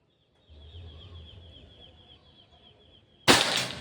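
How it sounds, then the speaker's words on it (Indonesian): A single sharp crack of a Pajero Gun Gen 6 air rifle firing a shot, loud and abrupt, cutting in after several seconds of faint ambient hum and a soft high tone. "Tembakan ketiga."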